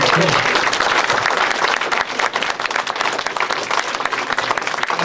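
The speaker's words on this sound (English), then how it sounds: "All right, round of applause for Zacherle, everybody." Audience applause at a Chiller Theatre convention panel, a dense, loud, sustained wash of clapping from a crowd that carries on steadily for several seconds.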